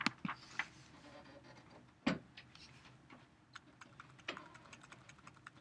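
Quiet typing on a computer keyboard, with irregular soft key clicks and a couple of louder taps, close by in a quiet room.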